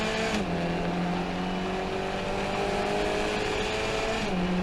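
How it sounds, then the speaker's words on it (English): A race car at Summit Point works down through the gearbox from fourth to first, engine note dropping in loud, steady steps close by with no pauses, tire noise underneath. "All the way down through the gearbox from 4th to 1st."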